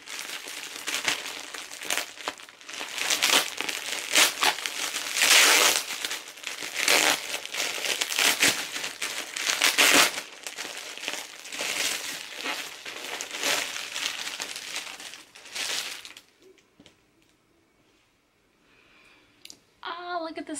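Packing tape and plastic wrapping crinkle and crackle as someone wrestles with a well-taped parcel, a long stretch of loud, close rustling and tearing noises that stops abruptly, leaving near silence with a brief voice at the end.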